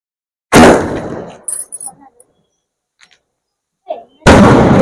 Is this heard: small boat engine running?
no